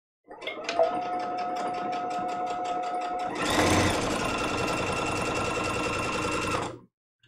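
A sewing machine stitches steadily around a quilt-as-you-go placemat after a few short back stitches. The close, continuous whirring motor runs for about six seconds and grows louder and faster partway through before stopping.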